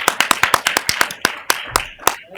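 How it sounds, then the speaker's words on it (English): A few people at a school district governing board meeting clap for a staff member, sharp, distinct handclaps in a quick uneven rhythm from a small group, close and clear, thinning out after two seconds. "Can we clap for Monica?"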